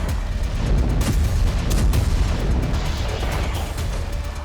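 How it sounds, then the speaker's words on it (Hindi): Explosions from a Russian bombardment of Ukrainian cities: loud, continuous deep booms and rumbling bursts fill the whole stretch with no pause and no voices. "रूसी फौज ने जबरदस्त बमबारी की है।"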